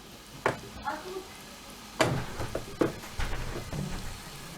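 Kale cooks in a hot pan with a soft, crackling sizzle, broken by scattered pops and spits and stirring clatter, fairly quiet and close, while a voice speaks in the background.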